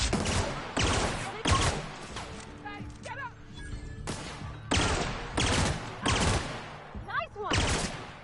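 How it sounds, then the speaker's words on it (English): A laser pistol in The Outer Worlds fires in bursts of harsh, loud shots separated by short gaps, with game effects sounding faintly between volleys and a voice talking in places. "This laser pistol is the best thing."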